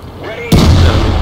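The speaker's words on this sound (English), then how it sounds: "And on the move, firing." A tank cannon in World of Tanks, fired on the move, goes off in one sudden heavy blast after a quiet stretch of driving rumble, and a deep boom lingers for a moment after it.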